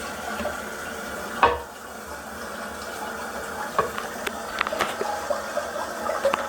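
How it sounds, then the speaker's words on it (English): Water runs from a tap in a soft, steady stream, with occasional clinks and knocks of handling nearby. "Turn the water on slow."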